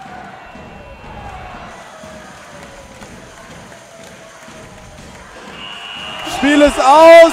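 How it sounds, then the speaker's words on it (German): Arena crowd in a hall erupting in cheers as Wasserburg clinches the German women's basketball championship against Saarlouis, rising swell of roaring and shouting toward the end beneath excited play-by-play commentary. "Der Jubel geht los hier in der Halle"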